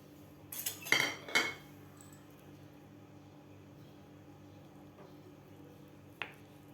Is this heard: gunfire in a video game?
no